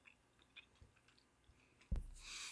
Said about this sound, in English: A few minutes later, I'm still chewing.